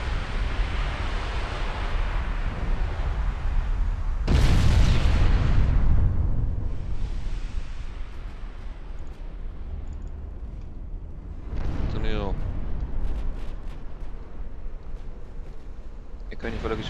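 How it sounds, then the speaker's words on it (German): A warship's ammunition magazine detonates in the naval battle game Ultimate Admiral Dreadnoughts: one sudden, loud, deep blast that rolls off over a couple of seconds, set against a steady rumbling sea-battle ambience with a later rising whoosh. "Munitionsexplosion."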